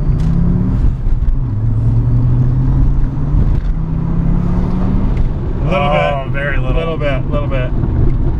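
An Audi S6 accelerates at full throttle, heard from inside the cabin as a loud, droning engine note climbing steadily in pitch under wind and road roar. A voice then speaks over the continuing rumble.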